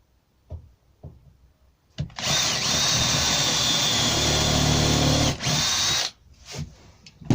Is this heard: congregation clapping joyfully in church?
no